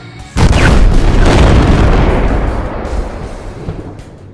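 A golem's arm blows apart in a sudden, loud explosion, a sharp booming onset followed by a long rumbling roar that slowly fades over several seconds.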